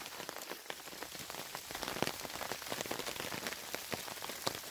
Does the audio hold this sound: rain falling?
yes